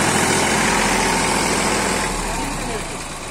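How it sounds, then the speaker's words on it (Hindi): A Mahindra 275 tractor engine labours under a load of about 2000 bricks, a loud, dense, steady drone that fades slightly near the end, with voices talking over it. "महिंदा 275 2000 ईंटों में भी ट्रैक्टर जोड़ नहीं कर रहा है"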